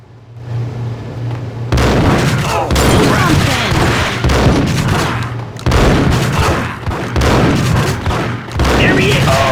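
Dense, loud bursts of gunfire from a Max Payne shootout kick in after a quieter opening and rattle on almost continuously, with heavy booming impacts layered through the barrage.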